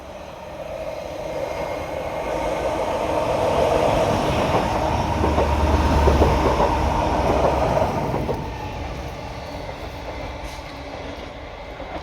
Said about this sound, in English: There's our first train, a Greater Anglia off to Peterborough.